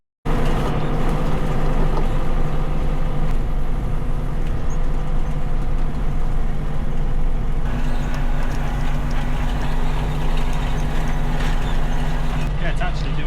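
A tractor pulls a hay tedder across a grass field at the last cut in September, its engine droning steadily and loud throughout with a faint mechanical clatter and no break.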